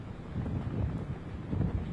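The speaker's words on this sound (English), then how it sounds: "It's windy right now" Steady low rumbling wind buffeting the microphone on the coast at Corpus Christi during a tropical storm, a continuous broadband roar with gusts swelling and easing, no voices.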